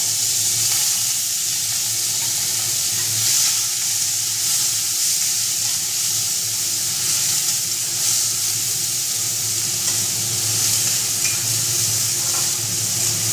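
A medium-sized, finely chopped onion sizzles in hot oil in a pan, a steady, loud frying hiss with faint stirring scrapes and no talking.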